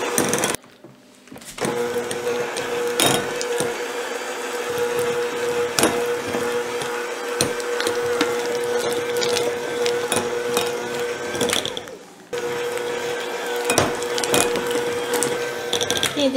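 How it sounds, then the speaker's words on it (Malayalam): An electric mixer beats Philadelphia Original cream cheese for a no-oven red velvet cake frosting, a steady whirring drone with a brief pause near the start and another dip toward the end. "ഇത് നമുക്കൊന്ന് ബീറ്റ് ചെയ്തെടുക്കാം 1-2 മിനിറ്റ്"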